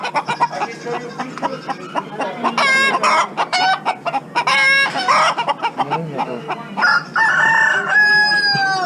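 Chickens and roosters at a small animal auction, repeated loud crowing and busy clucking close by, overlapping calls filling the whole stretch.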